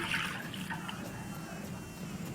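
Water pours steadily into a pot with a splashing, trickling wash, loudest at the start and continuing evenly at close range.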